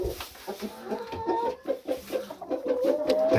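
Chickens cluck in a steady, busy chatter close by, short repeated clucks overlapping with a few drawn-out calls.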